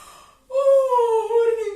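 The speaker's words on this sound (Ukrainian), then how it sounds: "Позіхніть зараз зі мною всі так" A voiced yawn during a choir warm-up: a quick breath in, then a sustained open tone that slides gently downward in pitch, clear and close.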